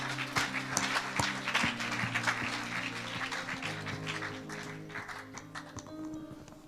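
A church congregation applauds the Lord, a steady wash of clapping heard over sustained organ-like music, fairly loud at first and thinning out toward the end.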